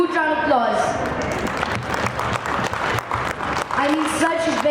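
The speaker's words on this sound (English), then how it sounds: "a huge round of applause" Applause from a panel discussion audience at a book festival, a short burst of clapping that runs between stretches of close, clear talk.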